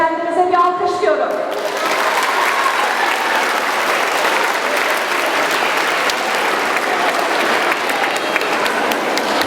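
Applause from an audience at a Turkish school's year-end address, starting after a brief voice and swelling into loud, dense, continuous clapping that holds steady for several seconds.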